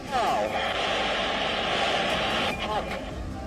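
Indian Air Force SEPECAT Jaguar supersonic jet at the Purvanchal Expressway inauguration, a loud continuous engine roar and whine heard throughout.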